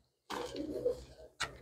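Pigeon cooing close by, one low soft coo followed by the start of another after a short gap, faint and heard on its own.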